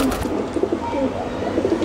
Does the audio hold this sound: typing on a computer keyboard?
no